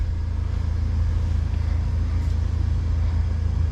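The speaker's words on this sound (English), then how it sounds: "Hold down the accelerator, hold it down, all the way." A 2023 Hummer EV accelerating hard from a stop, a steady low rumble and road roar heard from inside the cabin with no voices.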